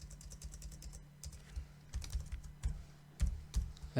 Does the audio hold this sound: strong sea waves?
no